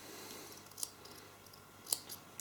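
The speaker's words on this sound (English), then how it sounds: "I prefer to do, I trim them down before I actually put that in" Scissors snip cotton wick material for an Ivogo Hulk RTA vape atomizer, two crisp close cuts about a second apart and a softer third at the end, in a quiet room.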